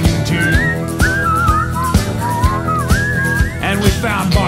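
Someone whistles a melodic tune, sliding and wavering notes carried over a steady backing track with a regular beat, loud and close throughout.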